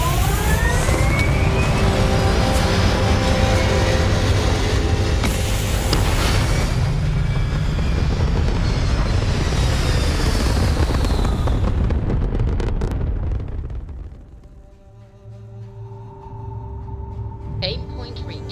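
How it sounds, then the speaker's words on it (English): Spaceship thrusters fire in a video game with a loud, continuous roaring rumble that holds steady for several seconds, then fades down and gives way to quieter electronic game tones. "All thrusters firing."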